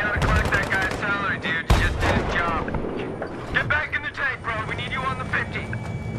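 Heavy machine-gun and rifle fire in the Battlefield 3 video game campaign rattles in dense, loud bursts almost without pause, with people talking excitedly over the shooting.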